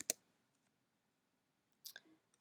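A Mac keyboard gives a few faint, sharp key clicks, one alone near the start and a small cluster later, separated by near silence.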